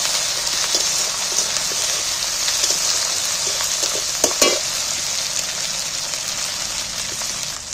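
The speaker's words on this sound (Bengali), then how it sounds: "আদা রসুন বাটাটা একটু ভেজে নিচ্ছি।" Ginger-garlic paste fries in hot oil, giving off a loud, dense, steady sizzle that never lets up. A brief stir or scrape flares up midway, and no one speaks.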